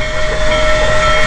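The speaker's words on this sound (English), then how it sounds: "Hot steam, she's leaking hot water." Hot steam hisses loudly and steadily from the Union Pacific Big Boy steam locomotive as it leaks water, with a sustained high whistle-like tone running through the close, unbroken rush.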